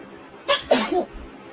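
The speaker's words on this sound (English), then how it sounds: "The way the cat's sneezing, it's literally sneezing like a human." A cat sneezes in a short meme clip, giving one quick, sharp, human-like sneeze with a smaller follow-up puff, fairly close against a quiet background.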